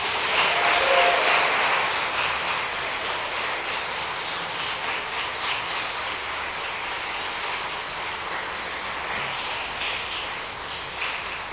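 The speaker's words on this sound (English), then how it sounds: "So I'd ask to please stand and receive a round of applause." Audience applause at a law school award ceremony for a trial advocacy competition, a steady wash of clapping that starts fairly full and gradually thins over about twelve seconds, heard alone without talk.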